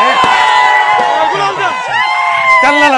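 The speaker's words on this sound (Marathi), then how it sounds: "आणि हा जल्लोष तुम्ही पाहतच आहात" A crowd of supporters cheers and whoops at an NCP election celebration in Parali, Beed, with loud overlapping shouts and voices filling the scene continuously, drums or chants rising near the end.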